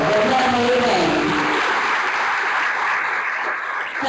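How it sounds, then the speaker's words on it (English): Dense, steady applause from a conference audience for a keynote speaker, a continuous wash of many hands clapping at once that fades slightly toward the end, with a brief voice at the start. "let's get another round of applause for Dr. Bray"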